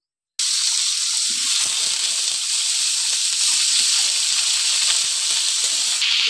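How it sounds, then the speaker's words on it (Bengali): Sliced pointed gourd (potol) frying in a pan with salt and turmeric: a steady, loud broadband sizzle and hiss that starts abruptly and runs continuously, no voices. "পটলটা কেটে নিয়েছি, এবার আমি ভেজে নেব।"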